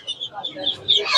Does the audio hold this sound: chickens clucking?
yes